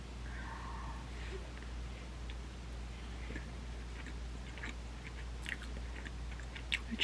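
Close, quiet chewing of a soft homemade black sesame rice cake, with faint sticky mouth sounds and a few soft crunches over a low steady background hum.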